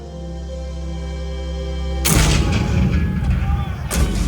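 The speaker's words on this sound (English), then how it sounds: "The cannon spoke for war." Cannon artillery fire at Fort Sumter in 1861 breaks out after a sustained low tone, with a heavy boom, a rolling rumble and a second blast near the end, loud and close.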